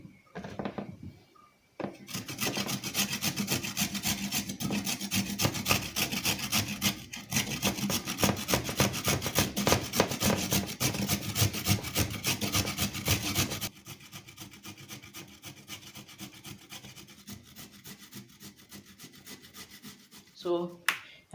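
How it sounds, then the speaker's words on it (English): Carrots are rubbed against a hand grater for carrot cake, a close rhythmic rasping of rapid strokes that runs nearly continuously, briefly pauses, then goes on more quietly toward the end. "It is now time to grate them, and I'll be using this my grater."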